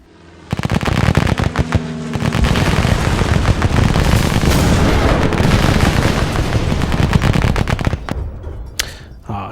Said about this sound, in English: Let's bombard the plane.